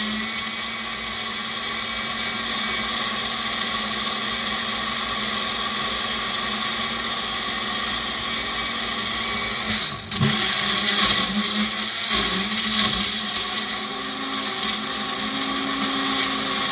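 A blender runs steadily and loudly on vegetables for a vegan pot pie, its motor briefly dipping and surging partway through with no talk over it.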